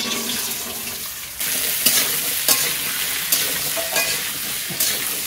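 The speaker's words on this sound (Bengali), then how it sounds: "এবার কড়াইতে দিয়ে দিচ্ছি আমি কেটে ধুয়ে রাখা কুচনো আলুগুলো।" Chopped potatoes hit a hot wok and the frying jumps to a louder, constant sizzle, with a few stirring scrapes and clanks over it.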